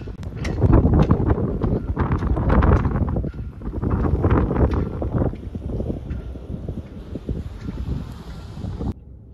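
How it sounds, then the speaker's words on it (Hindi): Strong, very cold wind blows outdoors during a first snowfall in America, roaring loudly in gusts and buffeting the microphone for several seconds before easing off, with no speech. "बाहर इंतहाई तेज और इंतहाई ठंडी हवा चल रही है।"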